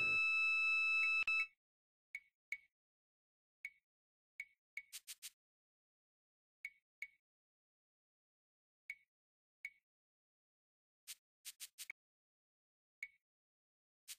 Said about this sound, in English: that's a puff-buster smoke detector